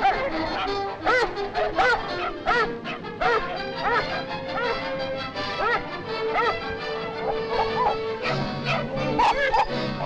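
Dogs bark and yip repeatedly while attacking a wild boar, loud and close, with excited overlapping barks and occasional whimpers.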